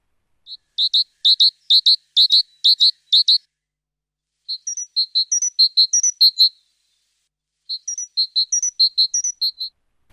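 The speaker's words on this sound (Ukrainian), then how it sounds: "давайте послухаємо, як цвірінькає синичка" A great tit chirping: three bursts of rapid, thin, high-pitched notes, each a quick run of repeated chirps with short pauses between, clear and fairly close with no talking.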